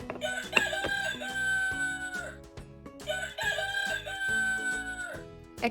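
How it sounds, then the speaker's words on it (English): A rooster crows twice, each a long, loud cock-a-doodle-doo close by, separated by a brief pause, with no voices. "a rooster,"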